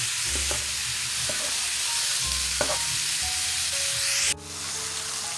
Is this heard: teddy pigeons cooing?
no